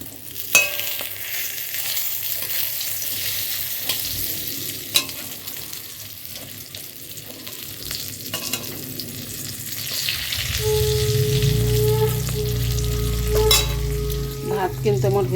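Pointed gourd (potol) fries in a pan, a soft sizzle broken by sharp utensil clicks that swells into a louder, fuller hiss and bubbling partway through, close by with no voices.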